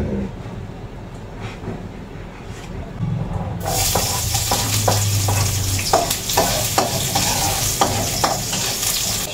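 Cooking oil goes into a hot pan for sarsyadong galunggong, and after a few seconds a loud, close, sustained sizzle rises with scattered crackles and stirring clicks, over a low background hum.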